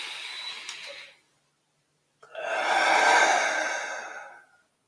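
Two deep breaths, close and clear: a short exhale trailing off, a pause of silence, then a long, full airy breath that swells and fades, with no talking.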